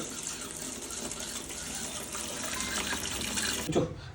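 Water from a tap runs steadily to fill a bath for a pet parrot, a constant close rushing hiss that continues without a break, ending with a small splash and clunk.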